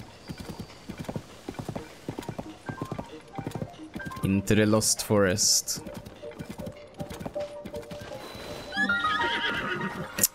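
A horse in Zelda: Tears of the Kingdom clip-clops along, then lets out a loud whinny midway, with game music and someone talking over it.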